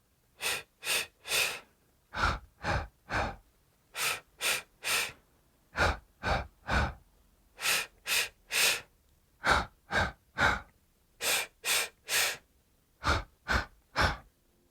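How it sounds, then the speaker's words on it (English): Rhythmic human breathing in a children's breathing exercise, sharp audible breaths in quick groups of three, some in and some out, each group followed by a brief pause, close and fairly loud with no talking. "3 breaths in, 3 breaths out."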